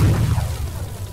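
A missile launcher blast in Fortnite on PC lands as a single deep boom that quickly fades into a rumbling tail.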